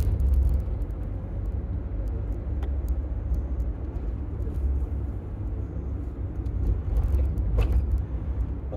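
Cars driving along a one-way stretch of road: a steady low traffic rumble with engine noise swelling and easing as vehicles pass, without talk.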